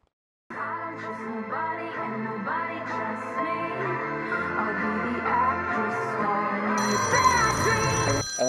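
A phone ringing with a bright, melodic electronic ringtone of repeated tonal notes that starts suddenly after a moment of silence and keeps playing steadily and loudly, with a higher layered tone joining near the end.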